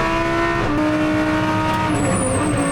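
Lamborghini GT3 race car accelerating flat out off the pit lane exit, a loud continuous engine note with steady harmonics stepping up through gears, close and dominant with no talk.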